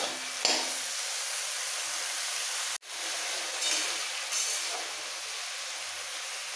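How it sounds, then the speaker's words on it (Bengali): Lau shak and tangra fish curry stirred in a pan, a steady close sizzling hiss with a few soft scraping knocks and one sharp clack midway, no talking. "সব একসাথে একটু মিক্স করে ফেলতে হবে।"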